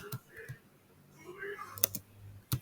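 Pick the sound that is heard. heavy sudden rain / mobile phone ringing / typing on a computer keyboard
typing on a computer keyboard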